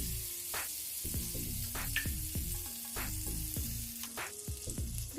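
Butter melting and sizzling in a pan while cooking pav bhaji, a steady close frying hiss with small pops and occasional scraping throughout.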